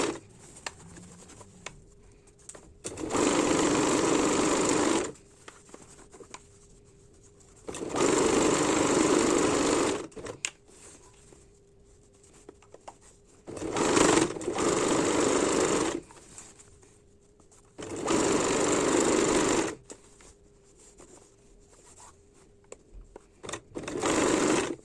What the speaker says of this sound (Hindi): चारों तरफ सिलाई लगा देंगे।